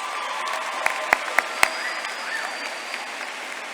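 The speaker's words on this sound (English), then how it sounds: "Please, a nice round of applause for these individuals" Graduation audience at a 2016 high school ceremony applauds school staff, a broad, even wash of distant clapping with a few sharp, loud claps close by near the start.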